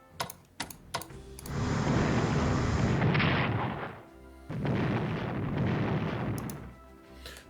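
A harbor is blown up in Strategic Command WW2: War in the Pacific. A few sharp clicks come first, then two long roaring waves of rumbling explosions, broken by a brief lull, with no one talking.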